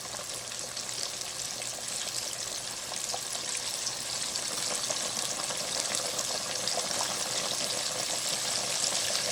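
Steady crackling sizzle of chicken deep frying in hot oil, a continuous hiss that holds level and swells slightly toward the end, with no talking.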